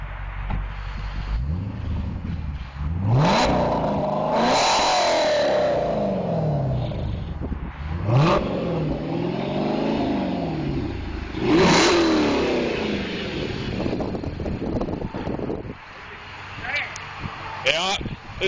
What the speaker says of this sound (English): you want to hop in it and rev it up for me?